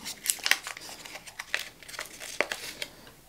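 A simple paper box that held a Tissot PRX watch strap is handled and crumpled, giving close, irregular crinkling and rustling bursts with no talking.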